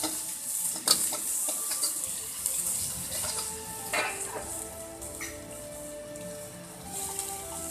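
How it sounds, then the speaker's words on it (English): Chopped garlic, ginger and spring onions stir-fried in hot oil: a continuous close sizzle with irregular spatula scrapes and clatters, no voices. "give it a stir"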